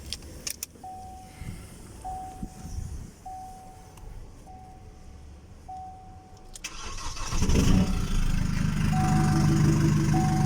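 Car fitted with a turbo, intercooler and injectors: keys jingle and a dashboard chime beeps repeatedly, then the engine cranks, catches and settles into a loud, steady idle close by.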